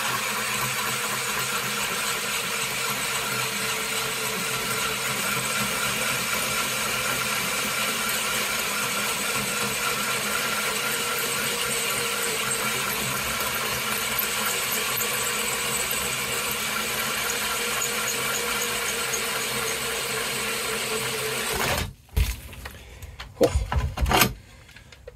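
Power tool steadily cutting a hole through scrap target material, a continuous droning whir held for a long stretch under slow, firm pressure, then stopping with a few brief clunks.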